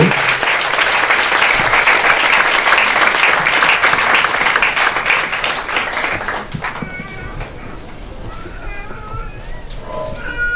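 A church congregation in Togo cheers and applauds, a dense, loud wash of clapping and acclamation that thins out toward the end as scattered voices and lighter claps remain.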